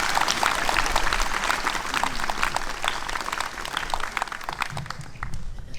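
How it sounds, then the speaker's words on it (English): Sustained applause from a seated audience at a Veterans Day gathering, honoring a chorus director and the Verona Walk singing chorus; dense, steady clapping fills the whole stretch, slowly thinning toward the end. "Can we have a round of applause for Joe and the Verona Walk singing chorus?"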